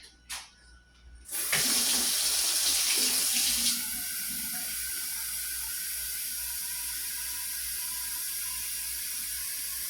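A kitchen tap is turned on with a click and water gushes loudly into a cooking pot for about two seconds, then settles into a quieter steady flow as the pot fills.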